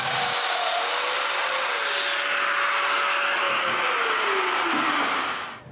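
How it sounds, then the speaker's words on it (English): A power drill whines steadily into wood, drilling mortises, its pitch slowly dropping as it bites deeper, then winding down at the end; close and loud. "To drill the mortises in the center of the side"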